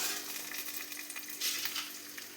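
Soybean masala frying in a pan, a steady close hiss and crackle of sizzling oil with bursts of stirring, continuous and fairly loud with no voices.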